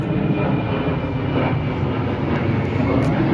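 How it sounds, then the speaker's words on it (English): An airplane passes overhead above an allotment garden, giving a continuous broad engine roar that stays steady and loud for the whole span, with no voices. "these planes are like every couple of minutes"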